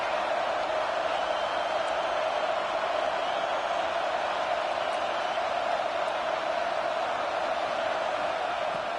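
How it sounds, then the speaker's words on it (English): Stadium crowd at a football game, a dense, steady roar of many voices filling the whole stretch at constant loudness, with no single voice standing out. "This crowd bringing the energy and noise early"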